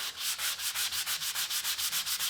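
A wooden plant stand surface being sanded by hand, with rhythmic back-and-forth scratchy strokes, about a dozen even passes in quick succession, close and steady with no talking.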